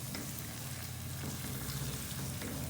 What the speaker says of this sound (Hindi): इसकी भी अच्छी तरह से करेंगे भुनाई।